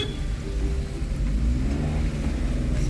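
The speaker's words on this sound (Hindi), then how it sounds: "गाड़ी आ रहा है पूरा लाइन में," Car engines rumble and rev in a slow queue of vehicles at a fuel depot on the road to Seppa, a loud, steady low drone that swells slightly with no break.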